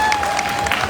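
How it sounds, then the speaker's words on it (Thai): Short burst of audience clapping at a live novel launch event, about a second of many hands applauding evenly, with a faint steady tone in the background. "ค่ะเสียงปรบมือให้กับคุณออฟค่ะ"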